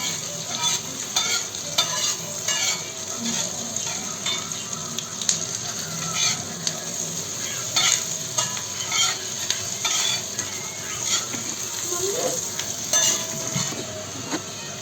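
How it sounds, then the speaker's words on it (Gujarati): Onions sauté gently on low heat in a pan, a faint steady sizzle punctuated by repeated spoon clicks and stirring scrapes. "ધીમા તાપે ડુંગળીને થોડી ચડવા દેવાની."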